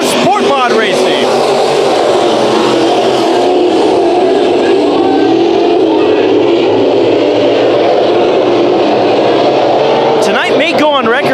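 Sport Mod race cars roar off at the green flag at Bakersfield Speedway, a dense sustained engine din from a full field filling the track, with a commentator's voice heard briefly at the start and end.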